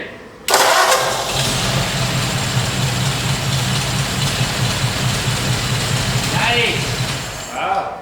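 A warm, freshly rebuilt 276 cubic inch Ford flathead V8 in a souped-up 1932 Ford roadster cranks and catches after a short pause, then settles into a steady, loud, close idle with a brief blip near the end.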